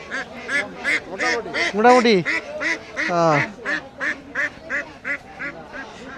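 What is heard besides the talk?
native ducks quacking at a rural market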